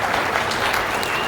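Audience clapping at a stand-up comedy show, a dense, even wash of applause filling the whole moment without a break.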